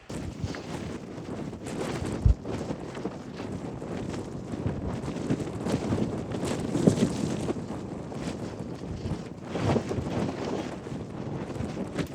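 Strong wind on Mount Moosilauke buffets the microphone in loud, continuous gusts, with rumbling surges and a few sharp thumps throughout.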